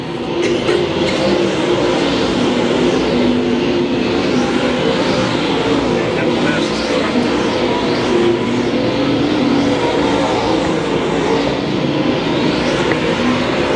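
A pack of A-modified race cars roars steadily around the dirt oval at Lakeside Speedway, engines blending into a dense, continuous rumble at a distance with faint surges as cars pass, no talk over it.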